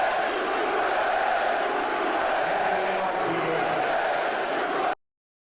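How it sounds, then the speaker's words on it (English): Large crowd reacting loudly at a public event featuring President Trump, a dense, steady roar of many voices lasting about five seconds and then cutting off abruptly. "President Trump was booed loudly, right? But then you hear this on Fox News."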